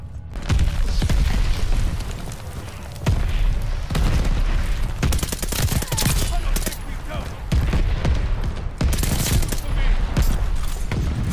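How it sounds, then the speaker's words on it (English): Artillery shells exploding in Call of Duty Vanguard multiplayer, repeated heavy booms and crackling bursts of gunfire in quick succession, loud and dense throughout, with a voice talking over it. "Watch your head, shells falling!"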